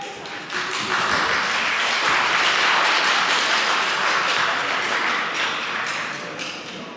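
Steady, dense clapping from a crowd in a parliamentary chamber rises quickly and holds loud and continuous for several seconds before easing slightly at the end.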